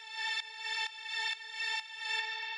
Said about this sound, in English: The next thing we have here is this drone